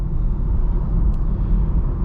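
Inside a 2025 VW Jetta cruising at about 45 mph, a steady low road and tire rumble fills the cabin with a slight whir, constant and unbroken, with no talking.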